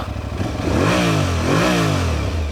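An Aprilia Tuareg 660 motorcycle engine revs up twice in two rising and falling sweeps, loud and close, over a steady idle with some mechanical clatter.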